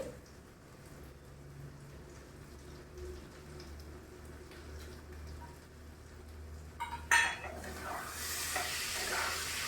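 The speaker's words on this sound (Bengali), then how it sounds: "চালটা দিয়ে এটা একটু ভেজে নেবো" Rice and potato frying in a pan, with a low steady sizzle and stirring scrapes that swell into a louder, brighter hiss near the end.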